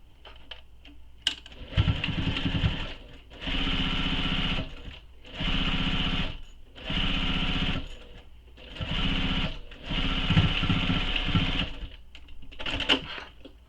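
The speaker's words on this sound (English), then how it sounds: "we're going to sew along this edge using the seam allowance given from the pattern" A sewing machine stitches a bag seam along a pattern edge in five or six steady bursts of a few seconds each, with short pauses between them, close and fairly loud, with a light rattle at the end.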